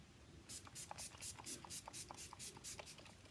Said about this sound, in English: So I'm going to spray with this MAC Fix Plus.